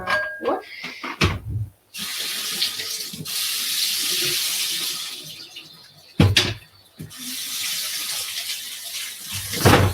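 Tap water runs steadily into a sink while apples are washed, hissing and splashing nearby, cut off twice briefly with a clatter as the flow is interrupted and then resumes.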